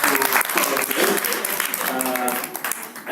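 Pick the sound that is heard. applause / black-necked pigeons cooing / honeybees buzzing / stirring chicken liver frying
applause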